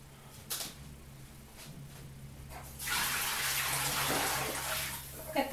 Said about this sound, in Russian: Я сейчас вот эту воду вылью.